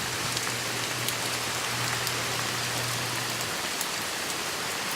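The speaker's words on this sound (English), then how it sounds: "the rain started again" Steady rain pours down around a roadside waiting shed with a big hole in its roof, a dense continuous hiss of drops on surfaces with a low hum beneath for the first few seconds.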